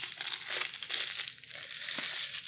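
Board game packaging being torn open and unwrapped during an unboxing, a steady close crinkling and crackling of plastic wrap that swells and eases over a couple of seconds, with no talking.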